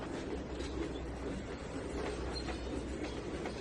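Freight train cars roll along the rails in the Trainz 2019 railroad simulation game, a steady, loud rumble with faint clickety-clack and occasional squeal throughout, no talking.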